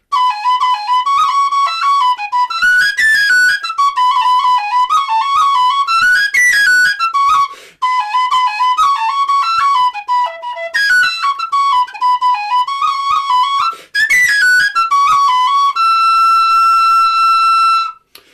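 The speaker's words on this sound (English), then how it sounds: "So this is the pistachio wood E natural E whistle, made by Simon Styles from Weston Whistles." A pistachio wood whistle in E natural, made by Weston Whistles, plays the jig Lark in the Morning as a clear, bright solo with quick ornamented runs and short pauses between phrases, ending on a long held note.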